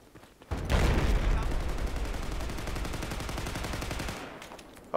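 An enemy tank fires on the player in Battlefield 4 multiplayer at the Lancang Dam map, a loud, dense burst of rapid gunfire that opens abruptly and rattles on for several seconds before cutting off, with no speech.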